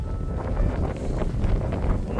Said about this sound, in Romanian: Bate vântul, în schimb, extrem de tare.